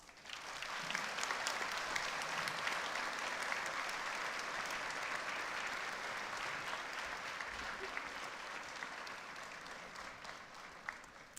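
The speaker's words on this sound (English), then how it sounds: "please, can we have a big round of applause?" A graduation audience at the Salford Business School ceremony gives a big, sustained round of applause, dense clapping that fills the hall and fades slightly toward the end, with faint voices underneath.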